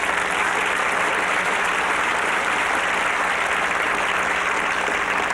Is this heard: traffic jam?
no